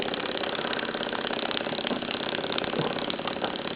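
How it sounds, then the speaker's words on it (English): A Gem steam engine runs under steam with a fast, even, quiet chuffing rhythm that stays steady and close throughout, with no voices. "Well, as you can see, it steams rather nicely. Very quiet, very balanced."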